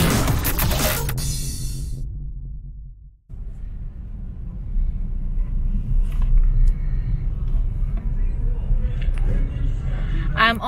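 A car drives through Cebu traffic toward Mactan. A low engine and road rumble is cut briefly by a near-silent gap, then resumes steadily, with scattered faint traffic noises over it.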